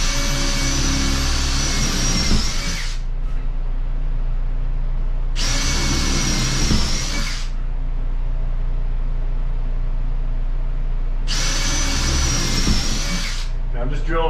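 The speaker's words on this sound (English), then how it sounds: "I'm just drilling a couple of holes in there so I can get a blade in it and saw across" A power drill bores holes through drywall and OSB during electrical panel and office wiring work. It makes three loud, sustained whining bursts of two to three seconds each, with a steady background hum between them.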